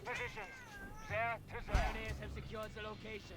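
A hungry cat meows repeatedly at close range, several drawn-out rising and falling cries in quick succession, loud and clear against quiet background hum.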